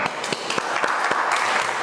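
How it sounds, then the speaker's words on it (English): Loud, brisk applause from an audience at a youth community workshop in London, with a few sharp louder claps poking through the steady patter. "Give her a round of applause."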